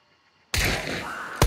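A single loud, close gunshot from a firearm in the Hunt: Showdown video game, cracking abruptly out of near silence and ringing on, with a second sharp report hitting near the end.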